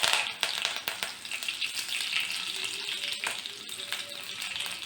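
Dried chillies, curry leaves and mustard seeds sizzle in hot oil for a tempering, a close, continuous crackling fry dotted with sharp little pops and a faint stirring rattle.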